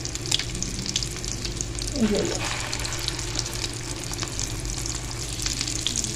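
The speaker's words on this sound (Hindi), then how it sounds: "अंडे में कोट करें और फ्राई करें" Chana dal kababs coated in egg fry in hot oil with a steady, close sizzle throughout, a brief bubbling flare near the middle.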